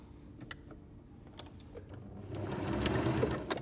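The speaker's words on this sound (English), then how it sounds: "sew your darker fabric and offset it by a similar amount. And sew all the way down." Sewing machine stitching quilt block fabric, a soft, steady motor whir with faint needle chatter that builds in the second half, quiet and close with a few small clicks and handling noises.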